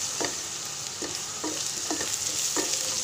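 Onion and spices frying in a pan for fish head curry, a steady close sizzle with several spaced scraping stirs of a spoon breaking through, no voices.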